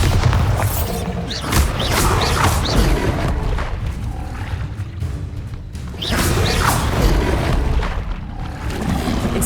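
Repeated Bombarda blast spells from the Hogwarts Legacy game go off in heavy, loud booms and crashes with whooshes and rumbling debris, two main bursts several seconds apart, with no speech.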